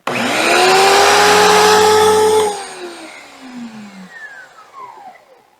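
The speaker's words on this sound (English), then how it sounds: "we have our OSHA approved end on our pressure washer, and we're going to plug it in" An electric pressure washer motor whines loudly and steadily for a couple of seconds, then cuts off and spins down, its pitch falling away as it fades.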